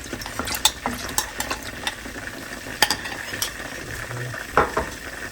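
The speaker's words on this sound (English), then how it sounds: "I'm gonna let this come to a bit of a simmer before I add the slurry in there" Jjajangmyeon sauce bubbling and sizzling in a pan, with soft spoon stirring and scattered clinks of utensil against the pan, fairly close and steady with no voices.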